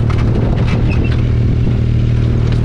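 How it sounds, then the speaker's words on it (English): Turbocharged car engine pulling at full throttle during a low-speed run, a loud, continuous close droning roar with steady intensity and no talk. "Completely full throttle on this."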